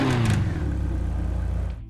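A JDM car in GTA V fires up with a custom startup sound, a brief rising engine rev settling into a steady, loud mid-pitched idle that fills the clip and cuts off at the end.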